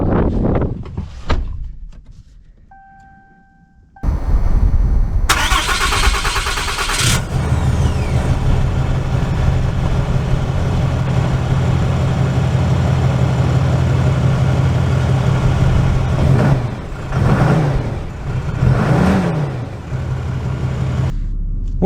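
A door thuds, then a diesel pickup engine cranks and catches with a loud roar before settling into a steady rumbling idle, with a brief rev and a few clunks near the end.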